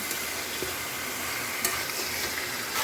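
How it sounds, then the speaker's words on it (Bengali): Chicken pieces fry in a pan with ginger-garlic paste and spices for Gobindobhog rice chicken biryani, a steady close sizzle with light stirring scrapes throughout. "মশলা রেডি, এরপর চিকেন দিয়ে দিলাম"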